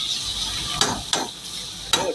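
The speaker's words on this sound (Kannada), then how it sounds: "ಇದೊಂದು ಫ್ರೈ ನಡೀತಾ ಇದೆ." Food fries in butter in a pan, a steady sizzle punctuated by three sharp stirring scrapes.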